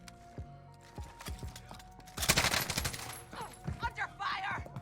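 Gunfire in Warzone rattles out in sharp cracks and bursts, with a dense loud volley at the middle and scattered shots before and after, mixed with other game effects.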